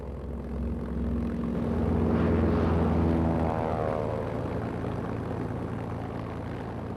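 German bomber aircraft engines drone with a deep, throbbing propeller hum that builds to a peak as they pass and then slowly recedes, loud and steady throughout.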